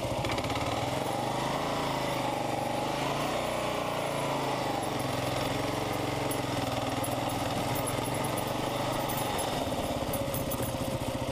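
A Kawasaki KLR650 motorcycle climbs a rocky off-road forest trail, its single-cylinder engine droning steadily and loud up close, with the throttle rising and falling as it picks its way upward.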